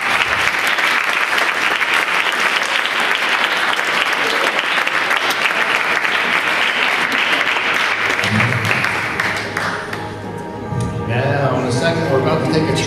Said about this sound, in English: Let the audience applause and the beat burn to hypnosis.